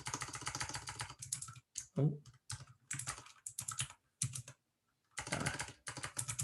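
Typing on a computer keyboard, close rapid key clatter in bursts with short pauses, under faint talk.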